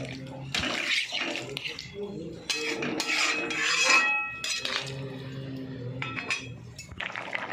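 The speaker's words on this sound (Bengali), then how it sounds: "তো এবার আমি জল ঢেলে দেবো।" Water pours into a pot of cooking potatoes being simmered in a kitchen, a steady splashing rush with a few metallic clinks of the pot, while a person talks over it.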